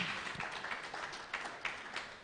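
Audience applause at a live workspace-themed forum, a soft, diffuse patter of many hands clapping continuously for a couple of seconds, moderately distant and fairly quiet.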